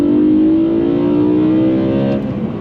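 A BMW E92 M3 roars loudly through its intake as it accelerates, a close, deep, rising engine drone that holds strong and then eases slightly near the end.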